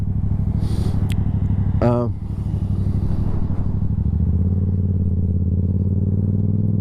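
A motorcycle engine runs nearby with a steady, loud, low rumble that holds throughout, with a brief clatter partway through.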